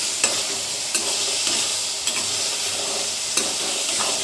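Tomato and green chili pachadi is stirred in a pan while it cooks, with a steady sizzle broken by several distinct scraping strokes of the spoon at irregular intervals, close and clear with no talking.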